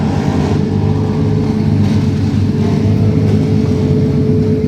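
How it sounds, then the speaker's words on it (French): A Nissan R35 GTR drag car revving hard while warming its tyres at a Japanese-style drag event, a loud, steady, close engine roar held without a break. "R35 GTR avec les pneus en train de chauffer."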